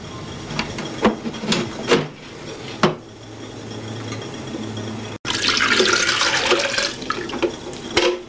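Water trickling and splashing inside a dehumidifier, where vapor condenses on cold metal and drips down into a collection box; a steady watery wash with a few knocks, louder and brighter in the second half.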